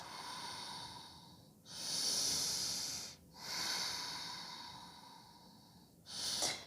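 Slow, deep breaths during a seated yoga side stretch: three long, close, airy exhalations, each followed by a quiet pause, with no talk.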